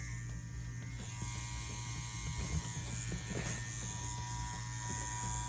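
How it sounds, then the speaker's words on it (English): An Ambition Ninja wireless tattoo machine running steadily, a close, constant mechanical buzz and whir with a low hum underneath, moderately quiet, with no talk. "we're going to see how the Ambition Ninja pushes bigger configurations"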